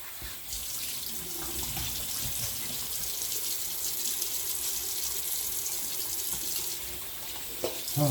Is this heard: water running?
yes